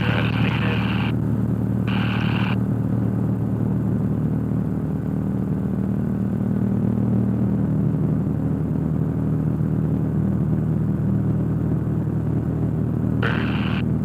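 A Cessna 172 engine runs at full power during the takeoff roll, giving a steady, loud droning rumble that fills the whole stretch with little change in level.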